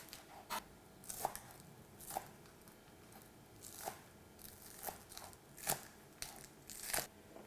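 Knife cuts green onions on a diagonal on a cutting board, about a dozen soft, irregular chopping taps spaced apart, faint and close, with no talk.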